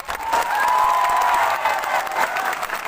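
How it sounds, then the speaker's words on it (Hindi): Applause from a live audience at a Tripura stage performance, steady dense clapping filling the whole stretch at moderate loudness with a faint crowd murmur underneath. "हंसो के लिए भी ताली मारो"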